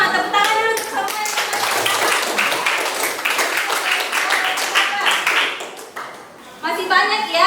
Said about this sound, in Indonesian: Tepuk tangan dulu untuk semua yang